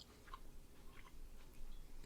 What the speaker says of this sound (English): I bet people are loving that chewing noise right now.